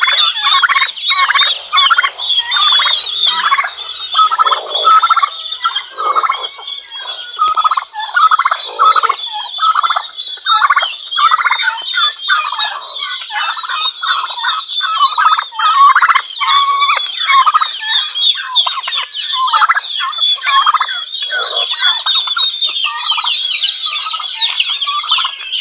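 A flock of turkeys gobbling loudly and almost nonstop, overlapping calls close by with occasional clucks mixed in.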